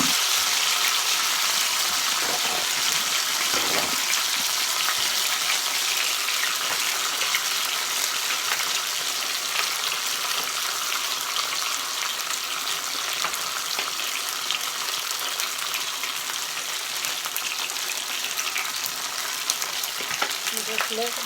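A pan-seared pork chop fries in hot grease in a pan, giving off a continuous, even sizzle and crackle with a soft bubbling edge and no break.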